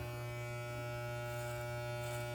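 An electric shaver buzzes steadily and close up while shaving off a beard, a constant droning hum with no breaks and no talking.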